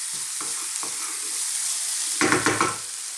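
Spices and minced beef frying on high heat for Indian aloo keema, a steady hiss with soft stirring scrapes, then a louder burst of sizzling as the meat is turned over quickly.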